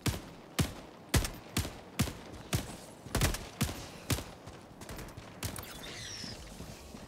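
Gunfire in the video game Helldivers 2: a steady series of about ten sharp, loud shots spaced roughly half a second apart, with no talk over them.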